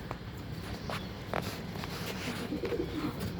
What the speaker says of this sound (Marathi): कबूतर आहेत काकांकडं